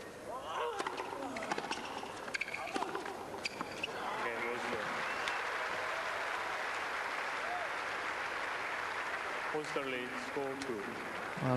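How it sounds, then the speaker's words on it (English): Applause from a tennis crowd honouring Thomas Muster swells after scattered noises and holds as a dense, steady ovation, with a commentator's voice faintly under it near the end. "rich applause from this crowd"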